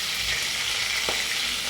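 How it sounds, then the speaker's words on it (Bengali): Fish fried lightly in hot oil in a pan, ahead of a mustard prawn dish, sizzle with a steady broadband hiss, close and continuous, with a soft clack partway through. "এই যে এখানে আমার মাছ ভাজা হয়ে গেছে"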